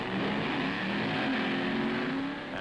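A 1965 top gas drag racing car, a pump-gas dragster, accelerating hard down the strip with a loud, sustained engine roar and rising pitch, steady and close throughout.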